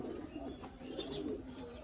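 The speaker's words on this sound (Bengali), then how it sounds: "এই কবুতর ওই নরের বাচ্চা।" Soft, low cooing of a Military breed pigeon, a faint continuous murmur against steady background noise.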